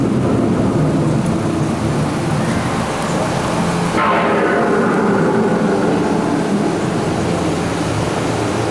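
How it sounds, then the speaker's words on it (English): A simulated approaching thunderstorm on Epcot's Living With The Land boat ride gives a loud continuous rumbling roar of thunder and rain, swelling and brightening midway, with no talk. "The approaching storm may seem violent and destructive to us"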